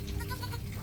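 A goat gives a short, close bleat lasting under a second against a steady low background hum.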